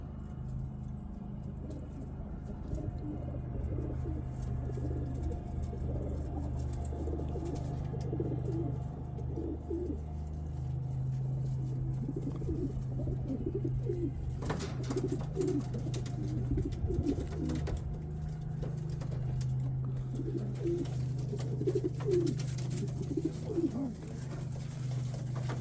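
Racing pigeons coo inside a loft, soft repeated throaty rolls layered over one another on a steady low background hum, with a brief rustle midway and no voices.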